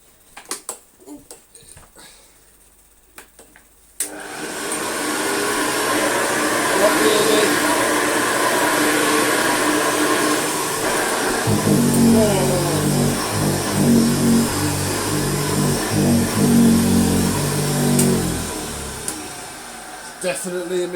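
Hoover Commercial U7008 upright vacuum cleaner starting up after a few knocks and droning steadily and loudly, its motor tone shifting partway through as it works the floor.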